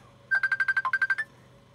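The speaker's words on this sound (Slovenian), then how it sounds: "Ja, telefonsko zveni, ne?" A telephone rings with a quick burst of about eleven evenly spaced electronic beeps, moderately loud over a quiet background, then stops.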